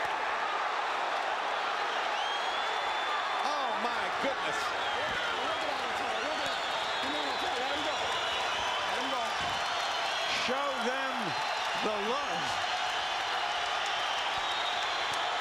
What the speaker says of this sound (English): Crowd on its feet in proper tribute